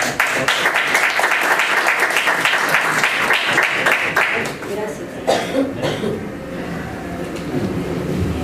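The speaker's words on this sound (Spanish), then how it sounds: "La recibimos con fuertes aplausos" Strong applause at an international anti-corruption forum welcoming a speaker, dense clapping for about five seconds, then thinning to scattered claps with a voice beginning to talk at a microphone.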